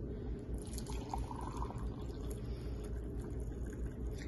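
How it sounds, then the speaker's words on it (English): Hot water, warmed in a microwave, is poured into a color-changing sublimation mug, a continuous quiet splashing fill with faint drips, without talk. "So I have a cup of hot water here that I'm gonna pour in and hopefully not make a mess,"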